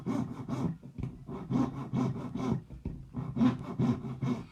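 Rhythmic back-and-forth sawing strokes cutting a pilot guideline on a wedding band ring, close and steady, each rasping pass followed by a brief pause.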